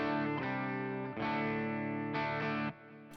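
Clean electric guitar tone through a Boss GX-10 with delay and reverb, a few strummed chords ringing out with a smooth ambient tail, close and alone.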